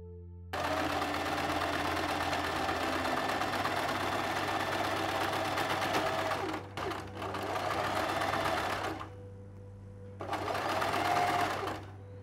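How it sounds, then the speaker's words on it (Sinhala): A sewing machine stitches around the four sides of a Valentine pillow, a close, fast mechanical whirring that runs for several seconds, pauses briefly, resumes, then stops and starts once more. "මේ හතර පැත්තම මැෂින් එකෙන් මහගන්න."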